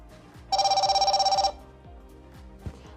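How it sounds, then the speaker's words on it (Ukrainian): Smartwatch from the 11 Series signalling an incoming call with a rapid, pulsing electronic ring of about a dozen evenly spaced beeps lasting one second, clear and close, followed by quiet room noise. "А зараз давайте перевіримо функцію дзвінка та повідомлення на смарт-годиннику."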